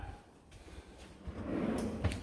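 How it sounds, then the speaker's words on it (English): A deep kitchen drawer in a remodeled home slides open or shut in one soft, fairly faint motion, with no talking. "Good deep drawer on that."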